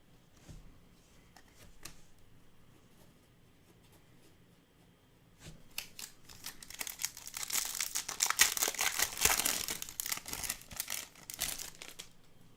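Paper is crumpled and crinkled close by, starting with a few sparse rustles and building into dense, continuous crackling in the second half.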